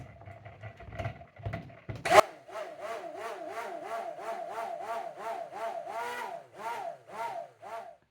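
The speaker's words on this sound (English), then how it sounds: "I'm just going to continue stirring the mix as it cools down" A spoon or whisk stirs a warm, thickening vegan hair conditioner mixture in a container, making a regular series of soft swishing scrapes in a steady rhythm, close by, after a few louder knocks.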